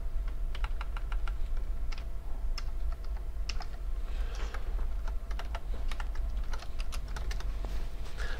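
Steady, fast typing on a computer keyboard while writing code, with dense, even clicks of keys running throughout without any talking.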